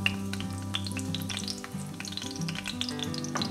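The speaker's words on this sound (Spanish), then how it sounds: "los ajos fritos con el pollo le da un sabor muy rico y los vamos a freír hasta que queden doraditos." Chopped garlic cloves fry in hot oil for a chicken al ajillo with lemon, giving a steady, close crackling sizzle with dense popping throughout and no voices.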